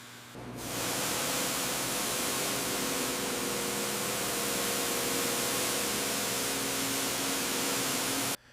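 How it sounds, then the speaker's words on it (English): A steady, close hiss of water spray rinses the foamed, pitted body of a 1903 Oldsmobile Model R Curved Dash during restoration, starting abruptly and running unbroken at a constant level for about eight seconds, with no voices. "Time to rinse."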